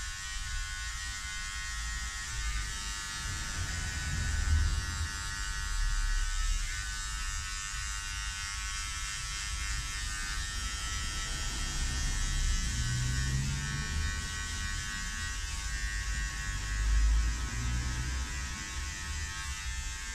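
Electric hair clippers buzz steadily and close up through a number 3 haircut, a continuous motor drone with slight swells as the blades move through hair, with no talking.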